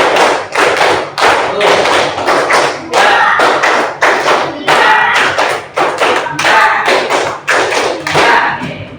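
A long run of steady, loud claps and thumps in quick rhythm, a fifth-grade class clapping together, close by, with no talking.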